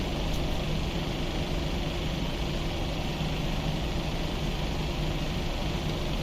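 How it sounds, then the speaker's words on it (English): Boeing 737 engine number 1 spooling up during start in a PMDG Prepar3D flight simulator, a steady low engine drone and hiss holding constant throughout with no talk. "Starting engine number 1."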